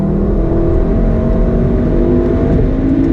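A 2017 VW Golf R, all-wheel drive, accelerates after a downshift, its engine a loud, steady, close droning roar heard from inside the car with no talk over it.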